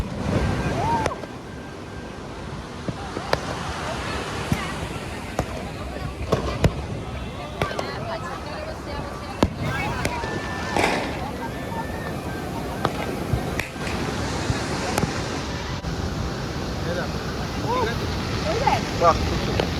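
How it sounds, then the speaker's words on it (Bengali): Sea surf rolls steadily along the beach at Puri on a Kali Puja night, a continuous washing roar with sharp firework bangs and voices mixed over it. "তো একদিকে সমুদ্রের গর্জন"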